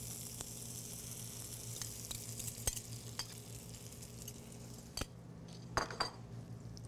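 Eggs go into a hot pan in a vegetarian dish being cooked, giving a soft, steady sizzle under a low hum, broken by a few sharp clinks of utensil against pan and glass.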